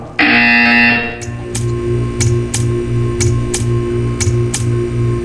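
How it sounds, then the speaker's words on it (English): A loud buzzer blares in Portal 2, a sustained harsh tone at first that then settles into a rhythmic ticking pulse over a droning hum. "You will hear a buzzer."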